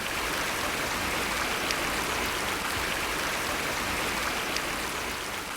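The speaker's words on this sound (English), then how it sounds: "and then to a flowing stream" Water rushes steadily through a forest stream, a dense, continuous wash of flowing water close by with no voices, carrying through a quiet woodland film scene after rain.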